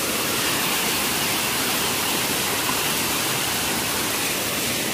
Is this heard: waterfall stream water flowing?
yes